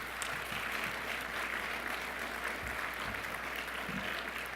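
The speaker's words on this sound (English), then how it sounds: "Now, you can give an applause for that." Faint but continuous applause from an audience at a scholarship brunch, a steady wash of clapping heard from a distance.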